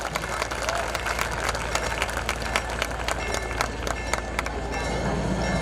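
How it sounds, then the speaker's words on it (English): An audience applauds at a school annual day, a dense, continuous wash of clapping from a large crowd that carries on steadily throughout, moderately loud and without voices standing out. "A huge round of applause for their truly extraordinary work."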